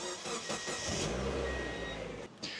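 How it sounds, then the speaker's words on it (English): A Mazda Miata engine cranks and starts after leak repairs, a brief churn of the starter leading into a steady mid-pitched idle that cuts off near the end. "Kick over the motor."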